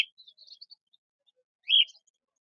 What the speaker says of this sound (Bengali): সব রকম পাখি আছে এখানে